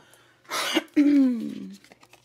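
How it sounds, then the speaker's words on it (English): A single close throat clearing, a harsh breathy rasp followed by a low voiced grunt that trails off, then quiet. "I hate doing that clear my throat thing in your ear."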